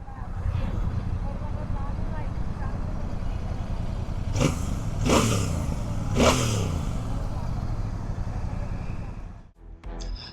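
A Royal Enfield Bear 650 parallel-twin, 270-degree-crank engine drones steadily with a throaty stock 2-into-1 exhaust note, revving up a few times midway, heard close with wind and road noise throughout.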